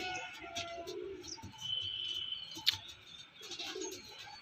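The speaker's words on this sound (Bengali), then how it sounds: "আজকে আমি একটা পায়রা দেখাচ্ছি, দেখুন। এটা অরিজিনাল আরশাদ লাইনে পায়রা" Original Arshad line pigeons cooing softly at a home loft, faint low coos mixed with light chirps from other birds and a quiet outdoor background.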